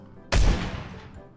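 A single sharp gunshot from the video game PlayerUnknown's Battlegrounds, a sudden loud crack with a booming low body that decays over about a second, heard alone.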